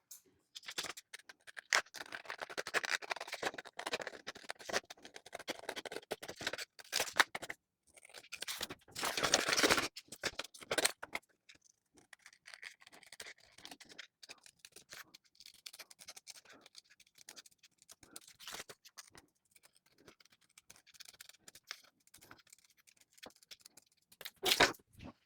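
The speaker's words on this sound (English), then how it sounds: "now we're ready to trim out our pattern pieces for our eyes and cut those out of felt" Scissors cut eye pattern pieces out of felt for a frog hooded towel, making quiet, continuous scratchy snips and rustles with short pauses and no talking.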